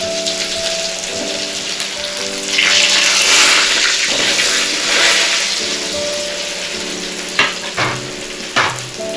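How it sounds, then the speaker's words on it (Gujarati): Corn spinach muthiya go into a hot tempering of mustard seeds and asafoetida, raising a loud, rain-like sizzle and crackle. A spoon stirs and knocks against the pan in a few sharp taps near the end, with no talking. "રાઈ તતડી જાય એટલે આપણે એમાં હિંગ ઉમેરીશું અને પછી આ આપણે મુઠિયા ઉમેરી દઈએ"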